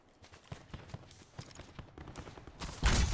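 Gunfire in the Call of Duty Blackout battle royale game: a rapid, uneven patter of distant shots runs throughout at low level, then a louder, sharp burst of fire lands near the end.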